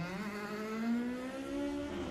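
A Toyota Starlet 1600 rally car with a 4A-GE engine drives through a forest rally stage, its engine note climbing steadily as it revs hard, close and fairly loud throughout.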